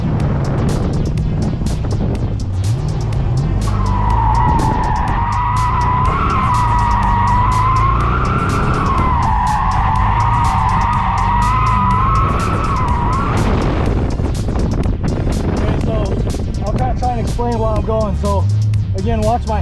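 A twin turbo Callaway Corvette drifts with its tyres skidding in a loud, sustained wavering squeal over a deep engine roar, close and continuous, with a person talking briefly near the end.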